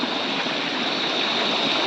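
A small hillside stream flowing steadily, with constant broadband rushing water close by and no voices.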